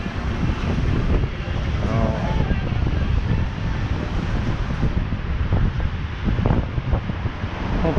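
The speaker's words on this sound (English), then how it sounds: "Hopefully that wind's not going to be too deafening" Wind rushes steadily across a microphone on a sunny city street walk, a dense low roar throughout with faint traffic and street sounds mixed in, and bits of distant voices.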